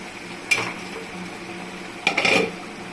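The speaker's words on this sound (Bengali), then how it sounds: "এখন আমি ঢাকনাটা তুলব।" A metal lid lifted off a pot of prawn curry on the stove, giving a brief clink, a short pause, then a louder scraping clatter as it comes free, close by with no talking.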